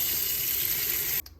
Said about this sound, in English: We're ready to pour in water.